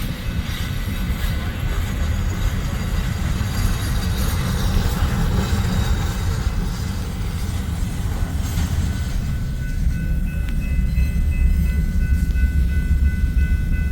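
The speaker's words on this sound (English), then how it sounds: "Here comes our local coming back with the crew on the caboose" A local freight train with a crew riding the caboose rolls through a rail yard, a loud continuous rumble of wagons and wheels with faint squeal and rattle, close and steady throughout.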